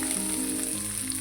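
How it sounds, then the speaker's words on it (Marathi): Chopped onion frying in hot oil already tempered with mustard seeds, cumin and curry leaves, giving a steady close sizzle with a faint crackle and no talk. "आता आपण हा कट करून घेतलेला कांदा घालणार आहोत फोडणीमध्ये"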